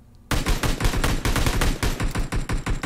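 Sustained video game gunfire rattles out in a fast, loud string of close shots, nearly continuous after a short quiet opening.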